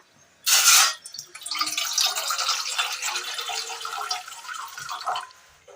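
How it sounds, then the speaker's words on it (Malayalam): Water pours from a container into a pot set on a stove in a Kerala kitchen. A sharp splash opens the clip, then a steady pouring rush runs for about five seconds before tapering off. No one speaks. "അടുപ്പത്തൊരു പാത്രം വെച്ച് കൊടുത്ത് ഇതിലേക്ക് അല്പം വെള്ളം ഒഴിച്ചു കൊടുക്കാം"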